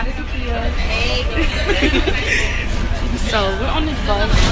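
Riding inside a New York City bus headed to the beach: a low engine rumble and road noise under a constant babble of passengers' chatter, with people talking nearby.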